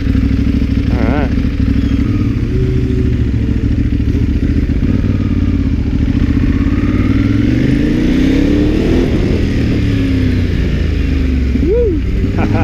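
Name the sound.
Ducati Hypermotard 2014 motorcycle engine revving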